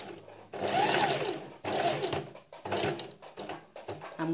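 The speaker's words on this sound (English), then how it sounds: "Once I'm done pinning, I'll just take and stitch half an inch away." Sewing machine stitching a silk dress in three loud, close bursts of rapid mechanical whirring with brief pauses between them.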